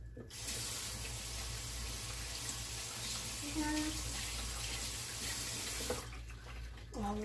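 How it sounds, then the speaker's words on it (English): Water runs steadily from a kitchen sink tap as gloves are rinsed under it, a continuous splashing hiss for several seconds that stops abruptly near the end, with no one speaking. "Wash my gloves, I should say"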